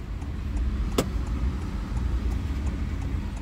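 A car cruises along a highway toward Nainital with a steady low road rumble and engine hum from inside the cabin, broken once by a brief sharp click.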